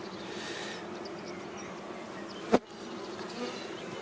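A honeybee colony of middling size buzzes steadily around the hive entrance as foragers bring in pollen and nectar, a soft continuous drone broken by one sharp close knock midway.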